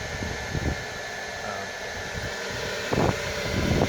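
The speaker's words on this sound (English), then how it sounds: "I had to build a little house for my wife's hair dryer." A hair dryer set to cool air, sheltered from light rain, blows steadily into a temporary backyard metalworking forge, giving a constant whooshing hiss with a few faint knocks and rustles.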